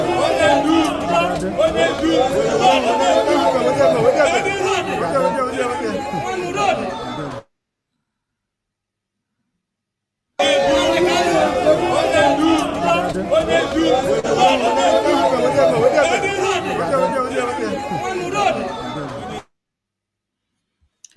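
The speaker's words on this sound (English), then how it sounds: "these are the workers of Supreme Court of Nigeria coming out to cheer our leader up" Workers of the Supreme Court of Nigeria gather outside, cheering and chattering loudly as a crowd, with overlapping voices and chuckles in a dense babble that breaks off briefly, then returns just as loud.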